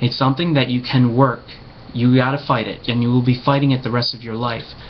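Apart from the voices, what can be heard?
No everyday noise stands out behind the speech.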